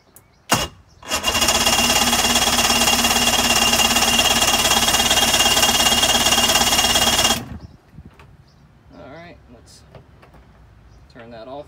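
A 2005 Mercury 115 two-stroke outboard motor on a 17 ft Mako center console runs loud and steady for about six seconds with a little throttle, then cuts off, followed by a voice talking.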